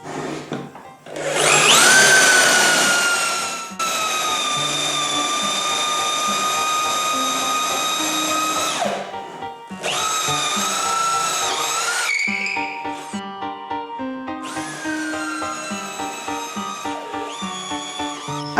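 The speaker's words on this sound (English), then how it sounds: "I do prefer to use this guide with an electric drill" An electric drill bores into wood through a drilling guide jig, its high whining motor rising and dropping in three close bursts with short pauses, loud and near, with no talking.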